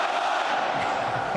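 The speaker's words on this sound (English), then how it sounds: "I know that you all have a great Australian cheer. I want to hear it." Troops at a presidential visit in Darwin, Australia, roar back the Aussie cheer as a crowd, a dense sustained shout filling the whole moment before easing off at the end.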